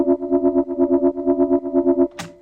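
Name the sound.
Serum synth sound with reverb and stereo widener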